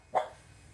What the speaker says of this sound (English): That's little Miss Ray in there barking.